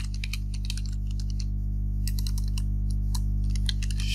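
Rapid keystrokes on a computer keyboard as terminal commands are typed, irregular bursts of clicks over a steady low hum, close and clear with no talking.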